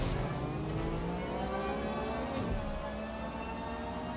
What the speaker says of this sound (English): the sound of that electric car.